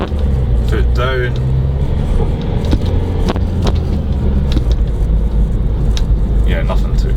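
A 2019 Vauxhall Mokka X with the Ecotec diesel engine pulls away under acceleration, a steady low engine drone from inside the cabin with road noise, while a person talks over it.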